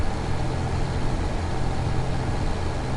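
A tractor engine from the Farming Simulator video game plays on a TV, a steady, droning, mid-to-low hum that holds constant and fairly loud throughout.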